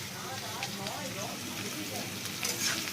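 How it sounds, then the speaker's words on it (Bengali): Potatoes frying in a pan for a home-cooked chowmein, giving a soft, continuous sizzle and crackle with occasional stirring scrapes, fairly quiet and close, with a few louder pops near the end. "আলুটা একটুখানি ভাজা ভাজা হয়ে গেছে"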